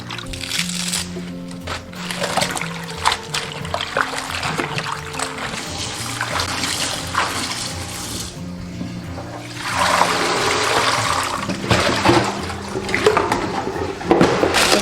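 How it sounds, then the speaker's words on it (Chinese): Fresh spinach being rinsed clean under running tap water, a close continuous splash and gush with rustling and squishing leaves, swelling louder toward the end, no talking. "首先我们把菠菜清洗干净。"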